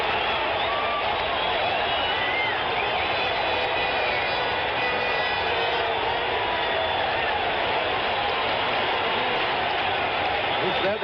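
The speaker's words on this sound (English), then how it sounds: "the crowd on its feet roaring here in the Oakland Coliseum" A baseball crowd roars on its feet at the Oakland Coliseum during a 1973 World Series game. The roar is a broad, sustained wash of cheering that holds steady the whole time, with no clear speech above it.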